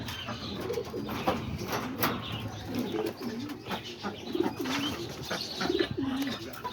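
White homing pigeons in a backyard loft give low, soft rolling coos, repeating every second or so beneath faint chirps and light background hiss, fairly quiet and nearby.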